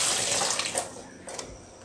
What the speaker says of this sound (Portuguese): eu vou lavar essa louça aqui